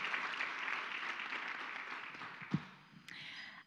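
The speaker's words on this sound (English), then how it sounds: "Let's give them a round of applause as we get started" An audience at a gender equality panel event at the JSE applauds the panelists, a steady wash of many hands clapping at moderate distance that tapers off near the end, with a brief thump and a few stray sounds.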